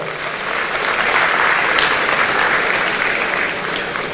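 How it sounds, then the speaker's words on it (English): Audience members at a Ghanaian student entrepreneurship programme launch applaud an honourable government advisor, producing an even, continuous wash of clapping that holds at a steady level throughout. "Let's give him a round of applause as well."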